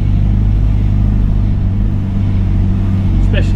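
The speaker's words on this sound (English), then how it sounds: "especially listening into engine noises." A bus engine running while driving, heard from inside as a loud, steady low rumble with a constant drone, close and continuous throughout.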